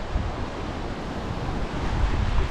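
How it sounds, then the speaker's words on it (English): Fast-flowing floodwater rushes across a flooded road and floodplain near Forfar and Brechin, Scotland, during Storm Babet, a loud, steady broadband roar mixed with wind buffeting the microphone. "fast flowing water"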